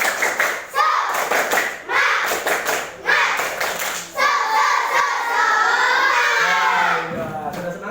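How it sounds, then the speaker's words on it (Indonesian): Children in a classroom clap in a spirited rhythmic pattern, sharp bursts of hand claps alternating with pauses, followed by lively overlapping kid voices and chatter. "Coba, satu kali tepuk bersemangat."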